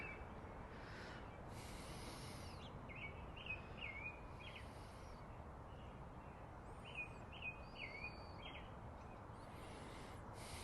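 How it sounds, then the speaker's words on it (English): Birds singing outdoors in quiet natural surroundings, a few faint, scattered chirps and short calls over a low, steady background hush. "but I just want to hear the birds right now"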